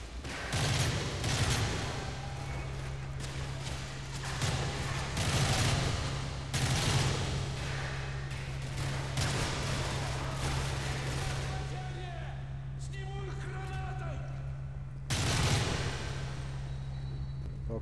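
Rapid gunfire bursts and fusillades from the Modern Warfare 3 single-player campaign, loud and sustained throughout, with a low engine-like drone underneath and occasional heavier booms.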